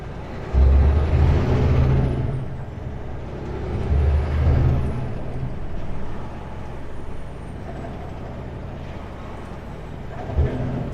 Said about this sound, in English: There goes that same bus.